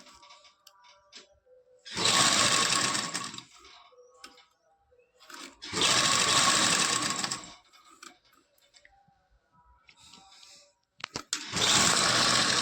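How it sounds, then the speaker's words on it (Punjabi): A sewing machine stitches lace onto a dupatta in three loud whirring bursts, each a couple of seconds long, separated by quiet pauses with faint handling clicks. "ਲੈਸ ਦੇ ਉੱਪਰ ਰੱਖ ਕੇ ਆਪਾਂ ਸਲਾਈ ਲਗਾਉਣੀ ਆ"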